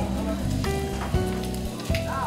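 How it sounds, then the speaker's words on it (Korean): Pork belly sizzles on a grill at an outdoor early-evening family meal in a yard, giving a steady crackling hiss with occasional louder pops, mixed with background voices and clattering. "오늘 저녁 메뉴는 지글지글 삼겹살."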